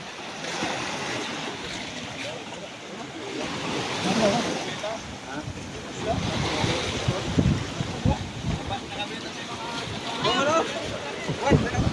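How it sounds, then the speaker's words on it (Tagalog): Big ocean waves crash and surge close by amid gusty wind, a continuous roar with swelling peaks, while voices call out over it. "ang paputi ng alon talaga, Grabing alon"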